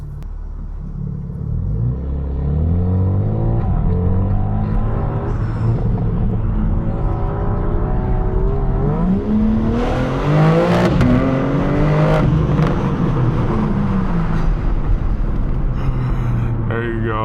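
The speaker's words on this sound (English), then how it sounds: "This is gonna be a first gear pull." BMW G80 M3 pulling hard in first gear through a tunnel, a deep engine roar climbing steadily in pitch, loud and echoing, with crackles toward the end and a voice over the start.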